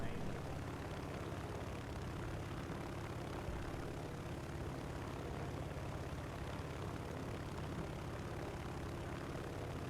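Continuous broadband drone of a video game airplane engine, loud and unchanging throughout, with no spoken words.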